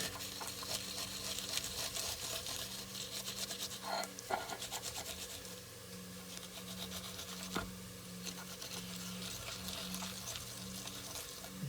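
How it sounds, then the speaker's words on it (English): A garlic clove is rubbed back and forth across the small ridges of an oiled grater while cooking tortilla soup, making a steady close rasping scrape with faint repeated strokes and no talk. "all you do is run the garlic across those little ridges, and it shreds the garlic right down"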